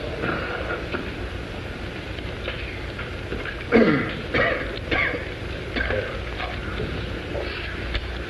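A few rough coughs and throat clearings rise over a low rumbling background, one sharp burst followed by smaller ones, fairly close.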